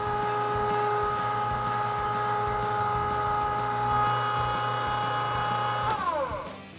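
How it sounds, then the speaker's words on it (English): An electric meat grinder runs its second grind through a 3/16 plate for summer sausage, with a loud, steady motor whine that holds evenly, then winds down near the end. "Now we're going to switch to our 3/16 and go for our second grind."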